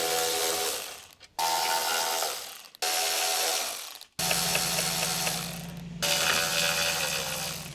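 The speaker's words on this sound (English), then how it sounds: "Using the small T20 socket on the small electric impact, we now need to remove the brake light cover screws from the factory carrier." A small electric impact driver with a T20 socket removes the brake light cover screws on a factory spare tire carrier of a 2007-2018 Jeep Wrangler, giving four loud, close bursts of rapid ratcheting hammering with brief pauses between them.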